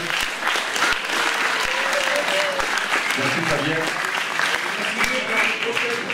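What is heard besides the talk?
audience applause for the sound engineer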